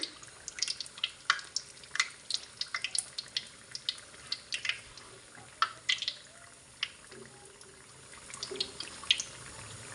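Besan-coated eggplant slices for beguni frying in oil on medium heat, a quiet bed of sizzle broken by frequent sharp crackles and pops.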